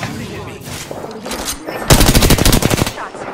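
Rapid automatic gunfire rattles in a fast burst from an Apex Legends match, preceded by a few scattered softer shots and game noise.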